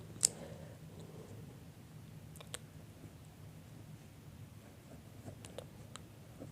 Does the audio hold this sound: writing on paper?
yes